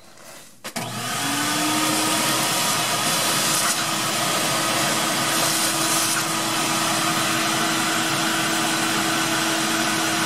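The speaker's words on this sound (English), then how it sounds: "And I keep my vacuum cleaner right here." A vacuum cleaner switches on with a click and then runs with a loud, steady whining roar for the rest of the span. No voices are heard.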